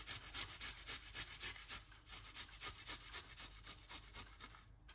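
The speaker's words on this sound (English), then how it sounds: "Grate the garlic." Garlic is grated against a grater in quick, regular strokes, a crisp rasping scrape repeating about three times a second, close and fairly quiet, with no talking.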